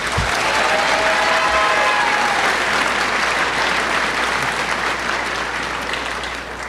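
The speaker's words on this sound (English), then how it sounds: "Give yourselves a round of applause." Loud, sustained applause from a large audience at a high school graduation ceremony, a dense wash of clapping that carries steadily through the whole stretch and tapers only slightly at the end.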